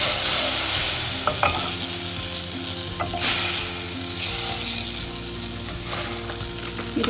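Butter melts and sizzles in a pot for leek and potato soup, a steady loud frying hiss that swells briefly with stirring scrapes.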